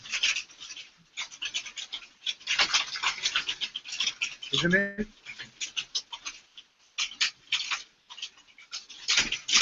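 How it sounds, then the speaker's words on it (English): Hailstones fall in irregular bursts of crackling patter, close and fairly loud, with a person briefly talking among the impacts. "Can you hear this? These are hailstones."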